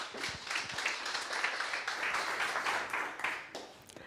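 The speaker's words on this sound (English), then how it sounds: "So big clap for Manuela." Audience applause for a speaker at a talk on a young women's organisation's online platform, a steady wash of many hands clapping for about four seconds, fairly close and without talk.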